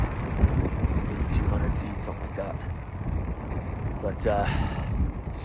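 Hard wind rips across mountain ridges in Montana during an elk hunt, a continuous low roaring buffet against the microphone throughout, with someone speaking briefly over it.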